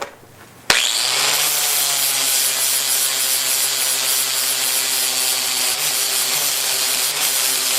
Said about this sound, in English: Now I'm going to take my time and grind that perfectly flat and smooth with an angle grinder.